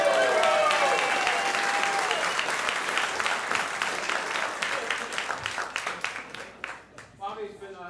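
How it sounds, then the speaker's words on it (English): Dense, loud applause from a comedy club audience at the Ice House, sustained for several seconds before thinning into scattered claps at the end. "give him a big round of applause."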